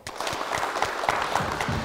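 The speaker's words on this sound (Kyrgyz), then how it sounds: "Кол чабуулар." Studio audience applauding during a Kyrgyz family game show semifinal, a steady, dense clapping that fills the whole short stretch at even loudness, no voices over it.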